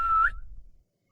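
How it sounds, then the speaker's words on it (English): A game character in an Unreal Engine 5 scene gives a single short whistle, a clear rising tone lasting about a third of a second, then it cuts off into silence. "let me make a whistle"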